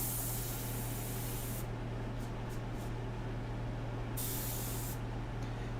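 Airbrush spraying paint for an ink and airbrush portrait, a steady close hiss in two bursts at the start and end, with a quieter hum between.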